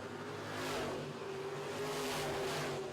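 Midwest Modified race cars roar around a dirt track during heat races, a continuous, fairly distant engine drone with rising and falling revs as cars pass.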